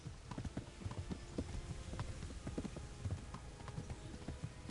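Horse hooves galloping in the medieval video game Kingdom Come, a fast steady clatter of hoofbeats under game noise, close and continuous, with no talk.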